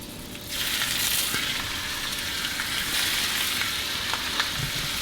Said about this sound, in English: Hear that sizzle.